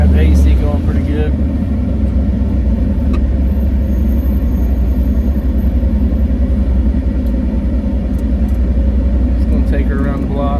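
A truck rolling around the block, its steady engine rumble and road drone filling the cabin continuously from inside, with a few faint clicks and brief bits of speech over the top.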